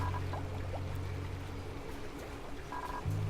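Water flows and pours through pipes in the Oxygen Not Included video game, a steady low gurgling wash with soft bubbly blips throughout.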